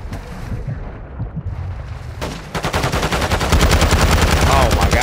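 Gunfire in the video game Call of Duty: Modern Warfare II, with a quieter stretch of shots giving way to dense, loud rapid automatic bursts that fill the second half.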